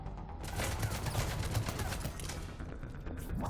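Dense, continuous gunfire and explosions from a Mass Effect 3 battle on Eden Prime, loud and steady throughout with rapid crackling shots layered over rumbling blasts.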